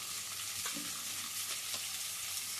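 Thinly sliced onions fry in a pan with a loud, continuous sizzle, with a few soft stirring scrapes over the steady hiss of the oil.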